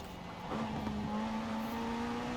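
A race car engine in Forza Horizon 4, the Automobili Turismo e Sport GT driven on a Thrustmaster wheel, holds a steady droning note that swells and climbs after a short pause as the throttle opens, close and alone.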